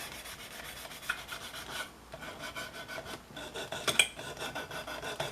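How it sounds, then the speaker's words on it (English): Quick, rhythmic rasping strokes of a small sanding stick rubbing back and forth on the hard body of a Revell '71 Plymouth Hemi Cuda 426 model car, close up and continuous. "I like to use these little sanding sticks"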